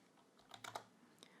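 Soft, quiet keystrokes on a computer keyboard as data is entered into an app form, a brief cluster of several taps close to the microphone with no voices.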